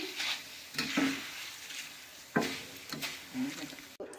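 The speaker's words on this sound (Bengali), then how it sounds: "এই তেলেতেই দেখো বেশ কিছুটা আমরা বাদামকে ভেজে নিচ্ছি" Peanuts frying in hot oil crackle softly while a spoon clatters and scrapes against the pan a few times.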